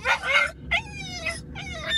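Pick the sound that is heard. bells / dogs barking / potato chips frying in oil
dogs barking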